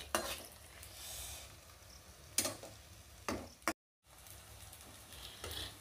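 Food sizzling faintly in a frying pan, a quiet crackle broken by a few sharp clatters of a spatula or utensil and a brief dropout, no speech.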